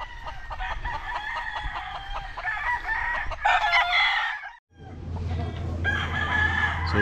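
Several roosters crow over and over at a game farm breeding gamefowl, including Ewens White birds, with clucking between calls; the crows are loud and overlapping, broken by a brief pause before more crowing resumes.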